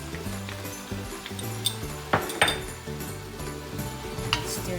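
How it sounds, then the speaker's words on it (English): Rice with raisins, bay leaf, turmeric and black pepper being stirred in a pot for arroz valenciana, with light clinks and scrapes of a utensil against metal over background music. "Let's stir this for a bit."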